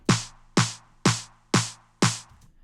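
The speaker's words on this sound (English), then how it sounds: "and I've got this snare loop" A snare drum loop in Logic Pro, sent to a parallel FET compressor on stock settings, hits five evenly spaced times, each crack bright with a short decaying ring, close and dry with no talk.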